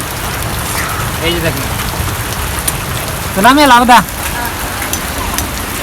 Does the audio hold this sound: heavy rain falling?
yes